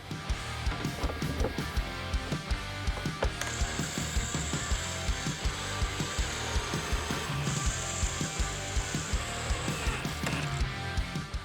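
Windshield going back onto a 2023.5 Harley-Davidson Road Glide fitted with LED performance headlights, a steady run of close, rapid ratcheting clicks and small mechanical rattles as fasteners are tightened, with no talk.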